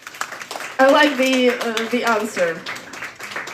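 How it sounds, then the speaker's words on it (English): Clapping from a comedy-show audience in Kyiv, sparse and light, running beneath a loud, sustained voice that dominates throughout. "The round of applause,"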